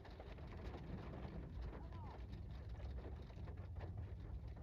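Steady rainfall with raindrops pattering on surfaces, a constant soft wash of sound at moderate level with no pauses, heard alone.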